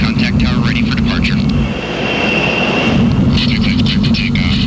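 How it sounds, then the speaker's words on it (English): Jet engines of a B-1 Lancer bomber, wings swept fully forward, roar loud and close as it rises off a West Texas runway, a sustained broadband thunder with shifting whine throughout. "With its variable geometry wings fully outstretched and the engines flooding with JP-4, the Bone rises off the tarmac in West Texas."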